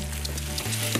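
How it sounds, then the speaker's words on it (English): Sage leaves sizzling in a butter sauce in a pan make a steady crackling fry, close and clear, with a low hum running underneath and no talking. "So starting to sizzle, that's great."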